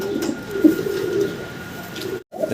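A fancy pigeon gives a low, soft coo nearby, a short throaty call heard alone over a quiet background.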